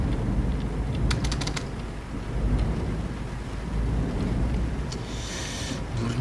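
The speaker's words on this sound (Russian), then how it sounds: "Дворники. Потому что дождь." Steady broadband rain patter from Euro Truck Simulator 2, driving a DAF truck in the game, fills the whole stretch at constant loudness with faint clicks over it and a brief brighter hiss near the end; no talk.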